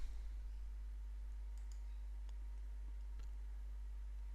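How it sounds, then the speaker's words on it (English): Computer mouse clicks on a desk, a few faint, sharp single clicks spaced about a second apart over a low steady hum, no speech. "click the green New button"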